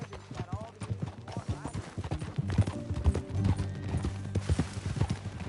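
A horse's hooves clip-clop at a walk on a ranch, with a whinny at one point and people talking over the steady rhythm.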